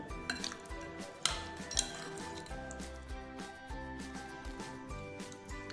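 A spoon stirs and clinks against a bowl as biryani tikka ingredients are mixed with lemon juice, giving quiet, close scraping and several sharper clinks at an uneven pace.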